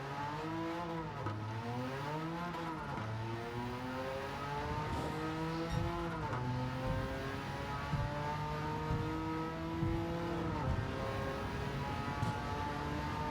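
A 1987 Porsche 959 race car in Gran Turismo 7 on the Tokyo Expressway, its engine droning and rising through gear changes, revving up steadily, then dropping and climbing again, loud and continuous with no talk.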